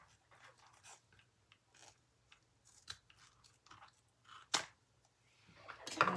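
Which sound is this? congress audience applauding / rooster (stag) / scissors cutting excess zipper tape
scissors cutting excess zipper tape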